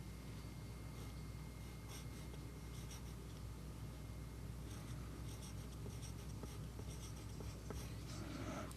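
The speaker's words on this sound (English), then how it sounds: "so write your name at the top" A pencil writes a name on paper in a children's activity book, making soft, continuous scratching strokes that are faint and close, with no voices.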